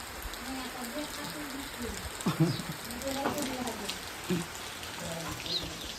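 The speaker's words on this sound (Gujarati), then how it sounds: "વરસાદ આવી ગયો." Rain falls steadily outdoors, a continuous soft patter heard at close range beneath people talking, with a bird faintly audible now and then.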